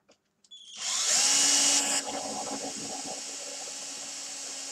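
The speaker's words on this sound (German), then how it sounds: "Und jetzt kann ich einen Bohrer nehmen." A small power drill whirs loudly as it bores through the plastic frame block of a Bruder Mercedes Arocs model truck, starting after a couple of clicks, holding a high steady whine, then settling to a slightly lower tone as it cuts.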